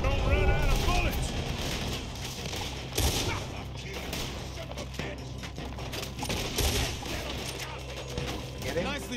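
Gunfire in the video game Red Dead Redemption 2, with dense, rapid shots crackling over music and game noise throughout, loud and close.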